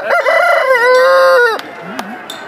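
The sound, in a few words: rooster crowing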